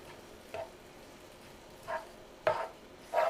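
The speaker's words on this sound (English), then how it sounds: "I'm gonna go ahead and mix that up a little bit." Paprika being stirred into a French onion turkey potpie filling: four short, soft scraping strokes at irregular intervals, growing slightly louder, with no talking.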